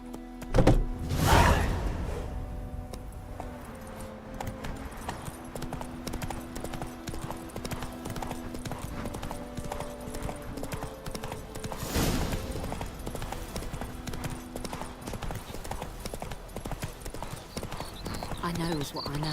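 Horse hooves clip-clop at a steady gallop in The Witcher 3, a rhythmic thudding run that stays close and fairly loud, with a rider's voice heard over it.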